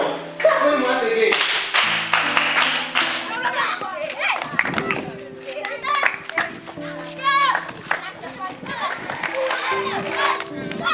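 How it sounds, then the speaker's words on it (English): Children clap loudly together for a boy in a lively group setting, sustained applause mixed with excited young voices and chatter throughout. "Clap for him once again."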